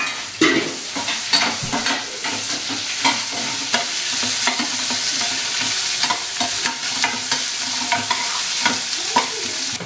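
Crushed garlic and onion frying in hot oil in a pan, a loud continuous sizzle close up, broken by scraping stirs and soft knocks of a spoon.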